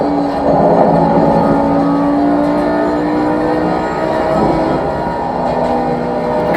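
A race car in the Assetto Corsa Competizione sim racing game, driven with a Fanatec GT3 wheel, its engine holding a sustained, fairly loud drone with small pitch shifts as it runs at speed.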